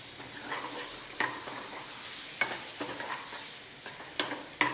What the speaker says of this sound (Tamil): சால்ட் போட்டு நல்லா வதக்கிக்கலாம்.